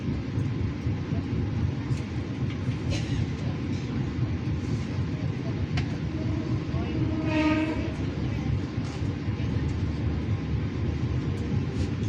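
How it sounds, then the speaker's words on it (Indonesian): Interior of the Taksaka passenger train travelling from Yogyakarta to Gambir: a constant low rumble of wheels and carriage, with a distant horn sounding briefly midway. "kereta api Taksaka yang kita naiki akan tiba di stasiun akhir"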